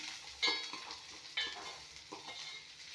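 Dried red chillies frying in hot oil in a pan, a soft continuous sizzle with a few sharper crackles and spoon stirring scrapes, close and fairly quiet, no talk.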